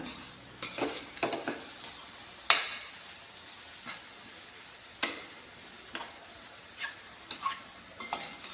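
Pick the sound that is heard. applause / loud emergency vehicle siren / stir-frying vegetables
stir-frying vegetables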